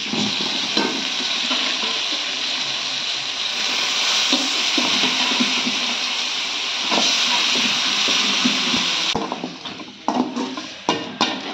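Chicken goes into a hot pan already coated with turmeric, and a loud continuous hissing sizzle fills the space. It stays steady, then turns choppier near the end with light clatter as it is stirred.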